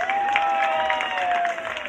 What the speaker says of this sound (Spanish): Ya están aquí, un aplauso para ellos